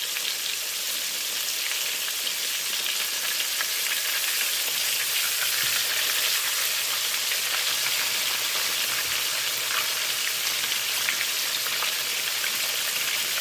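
Country fried steaks sizzle steadily in a hot pan, a dense, loud, even crackle with fine spitting pops that holds without break throughout, close up and with no voices.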